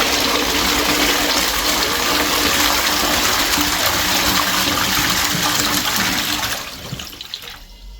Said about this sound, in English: I'm going to flush my toilet right now.